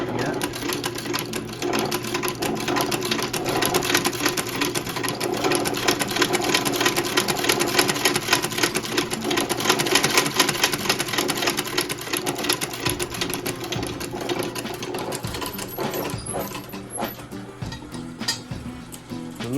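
An old electric sewing machine runs steadily in a shoe repair shop, a continuous close mechanical whir with rapid rhythmic ticking, easing off toward the end with a few clinks.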